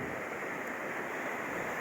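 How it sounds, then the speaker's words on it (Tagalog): Strong sea waves crash and churn under gusting typhoon wind on the coast at Bari-is, Caibiran, forming a dense, loud, continuous roar with no break or voices. "Lakas ng alon, no?"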